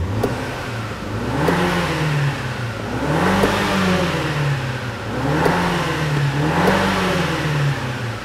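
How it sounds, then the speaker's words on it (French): A 2016 MINI Cooper Clubman S engine revs up and down in repeated swells while accelerating, a loud, steady mid-pitched drone rising and falling about every two seconds. "Je suis surpris de voir la sonorité présentement qui sort de cette motorisation-là"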